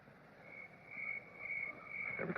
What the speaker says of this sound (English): Bullfrog. Makes a good watchdog, him and the crickets.